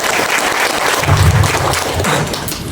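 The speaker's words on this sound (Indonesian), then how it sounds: "tepuk tangan." Audience applause at a trade union branch congress in Sukabumi, Indonesia, during a welcome speech. The clapping is dense and steady for about three seconds, with a dull thump partway through.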